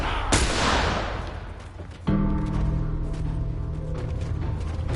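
Gunfire in the video game The Last of Us, a sharp shot followed by a decaying burst and then a steady rumbling background of distant fire, loud and close at the start.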